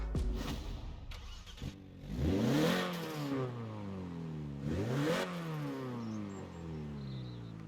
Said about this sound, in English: We will take a quick listen here in Forza Vista, just the pure engine sound.